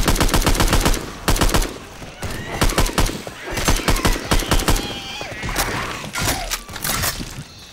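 Rapid, loud bursts of automatic gunfire from the video game Left 4 Dead 2 during custom map gameplay, repeated volleys with short pauses and shattering and mechanical noises between them.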